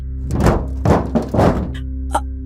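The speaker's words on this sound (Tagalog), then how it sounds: "may marinig kaming malakas na lumagabog sa bubong ng bahay" Three heavy, hollow thuds land in quick succession on a house roof, then one lighter knock follows, all over a low steady hum.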